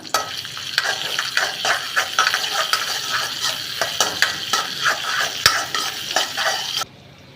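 Green chili being sautéed in a pan, with a loud continuous sizzle and rhythmic scraping stirs about twice a second, close up, ending abruptly in near silence.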